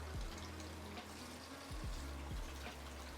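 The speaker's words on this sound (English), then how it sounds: "We're gonna run my finger under some cool water." Cool tap water runs steadily over a burned finger at a kitchen sink while pizza is made from scratch, a continuous close splashing hiss with a few low knocks.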